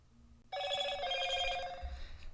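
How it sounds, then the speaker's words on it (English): A telephone bell rings loudly and steadily for about two seconds after a brief quiet moment, close and clear with no voices over it. "Oh, phone."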